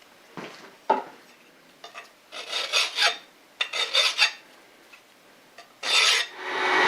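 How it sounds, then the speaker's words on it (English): A hand file rasps burrs off a metal lathe part in short scraping strokes, several separate bursts with pauses between, close and clear with no talk. "Take a file to this,"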